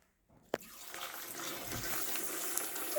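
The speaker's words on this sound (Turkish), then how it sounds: "su koyuyoruz." Water pours steadily into a pet fish container, beginning with a small splash and settling into a continuous, fairly close filling rush.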